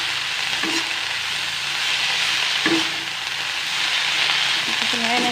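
Homegrown vegetables, chopped ginger and salt sizzle steadily in a hot pan, with a few brief scraping stirs and a faint voice near the end.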